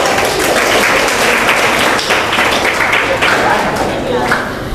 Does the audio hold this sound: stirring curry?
no